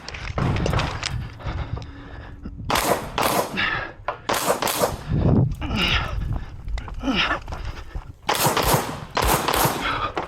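Gunfire at a practical shooting match stage, with bursts of loud, rapid shots in quick strings separated by short gaps. The shots are close and harsh, with movement and clatter between strings.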